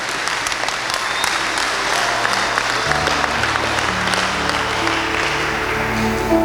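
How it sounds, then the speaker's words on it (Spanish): A church congregation applauds steadily and loudly throughout, with sustained musical tones entering partway and swelling beneath the clapping. "Denle un fuerte aplauso, Señor"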